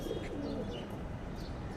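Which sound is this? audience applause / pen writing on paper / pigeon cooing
pigeon cooing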